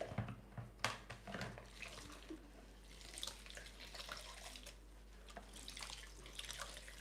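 Water from a kitchen tap runs and splashes into a cup where a blender blade is put to soak, a continuous moderately close hiss and patter with irregular splashy bursts.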